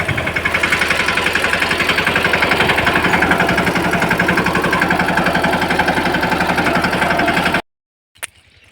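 A tractor engine idles with a steady, loud, chugging knock for about seven and a half seconds, then cuts off abruptly, leaving near silence and one brief click.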